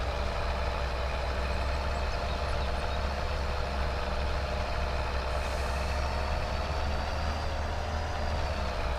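A heavy truck in Farming Simulator 22 runs steadily with a low engine drone and faint high whine throughout, no distinct shift points standing out, and a loud, continuous level with no talk.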